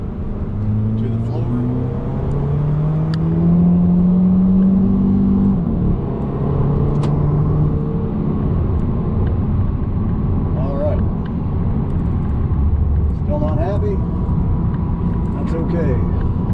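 A 2011 Audi TT Quattro 2.0T TFSI with engine damage is held at a 3,000 RPM pull. The engine drone climbs steadily, then holds a loud, even rumble throughout.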